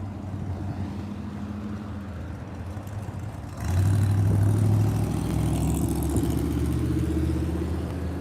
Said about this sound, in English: This truck just pulled up over there right now.